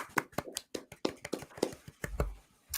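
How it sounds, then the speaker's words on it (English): Hand clapping at an award show for Manitoba golf courses, a quick run of about a dozen sharp claps with uneven spacing, fairly close, ending in a low thump and one last clap. "Clap away from the mic here."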